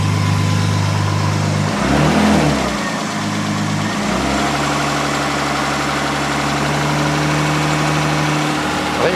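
A BMW E36 six-cylinder engine with a newly fitted oil cooler idles steadily and loud, with a couple of quick throttle blips in the first few seconds before settling back to an even idle.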